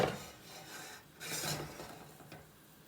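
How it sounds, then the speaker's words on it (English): A Passover-inspired omelette cooks in a pan, giving faint scraping and rubbing sounds of a utensil against the pan, with a slightly louder stretch midway and no talking. "Now I'll close up the omelet. And I'll let it cook a little more."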